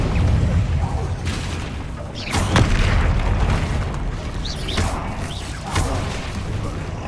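Incendio fire spell cast in the video game Hogwarts Legacy, rendered as repeated whooshing bursts and booming spell impacts in a busy magical duel, loud and close amid ongoing combat sounds.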